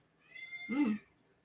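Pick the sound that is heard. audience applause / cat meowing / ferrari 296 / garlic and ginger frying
cat meowing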